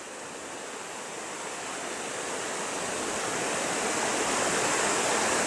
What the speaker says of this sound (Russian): здесь очень шумно. Буквально 15 маленьких ручейков, полноводных.